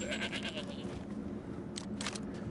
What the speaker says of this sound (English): Hey, goat.